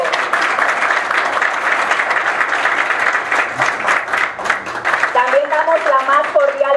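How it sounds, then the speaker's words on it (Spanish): Audience applause at a political party presentation event in the Dominican Republic, a dense, steady wash of clapping throughout, with cheering or a voice rising over it near the end. "Un fuerte aplauso."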